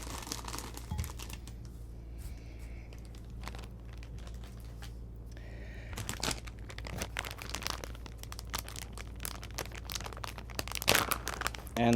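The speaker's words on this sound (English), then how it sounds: "Then we have a bag of Cheetos cheese puffs. We'll add that to the concoction." A bag of Cheetos cheese puffs crinkles and crackles at close range, giving off irregular sharp plastic rustles and crunchy taps as it is opened and poured, with no talking.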